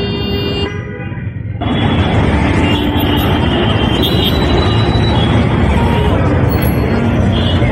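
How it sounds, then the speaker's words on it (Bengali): A metro train pulls away from Farmgate metro rail station in Dhaka amid busy city traffic: loud, sustained rumbling and rushing noise, preceded by a few short horn toots. "দেখুন রেল চলে যাচ্ছে ফার্মগেট মেট্রো রেল স্টেশন থেকে"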